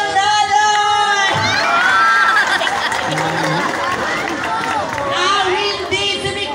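An audience at a gay beauty pageant roars with continuous loud cheering, whoops and shouting, while an amplified announcer's voice carries over the crowd.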